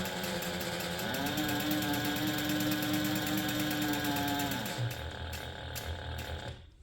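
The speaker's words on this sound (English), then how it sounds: "I'm just going to top stitch around the leather using a 1/8 inch seam allowance." Sewing machine top stitching around leather on a handbag, a rapid steady whirring hum with a rising pitch that holds for several seconds before slowing to a stop, with no voices.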